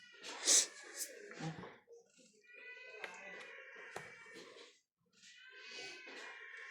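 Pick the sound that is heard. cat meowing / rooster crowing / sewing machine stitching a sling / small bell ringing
cat meowing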